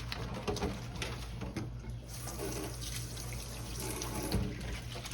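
Hands are rinsed under a running kitchen tap, giving a steady close splash and trickle of water with some gurgling, and birds cooing faintly in the background, with no one speaking.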